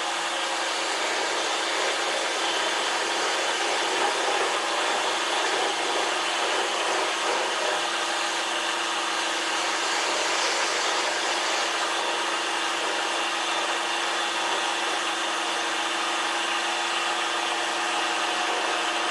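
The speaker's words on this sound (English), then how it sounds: "Grinder in the background still slowing down" A grinder left running in a workshop while a paper towel stand is turned, a steady, broad whirring drone that holds evenly throughout with no talk.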